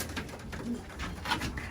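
Champion young racing pigeons coo softly in a loft after arriving home together. A few low, muffled coos sound close over a faint background hum.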